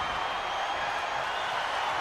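Arena crowd in the WWE 2K25 wrestling game, cheering as a steady, dense roar that holds at an even level for the whole stretch, with no clear peaks or individual voices standing out.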